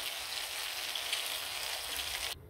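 Chopped onions hit hot mustard oil in a pan, giving a steady, bright sizzle and crackle at close range that cuts off abruptly near the end.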